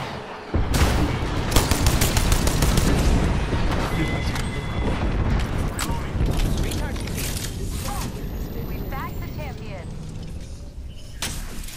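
Heavy bombardment from an air strike in a battle-royale shooter game, dense rolling blasts and rapid gunfire cracks through most of the stretch, easing toward the end.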